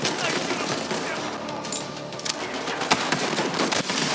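Rapid automatic gunfire in the Borderlands 3 shooter game rattles on almost continuously, loud and close, with sharper individual shots standing out among dense crackling bursts.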